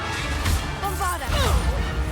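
Blast from the Bombarda spell in Hogwarts Legacy: two sharp crashing bursts about a second apart, loud and close, with a voice speaking over the magical combat.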